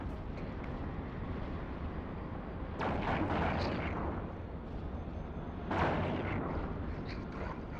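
Ship weapons in EVE Online firing during a combat mission, with heavy rumbling blasts swelling twice over a dense, continuous roar, moderately loud and without talk.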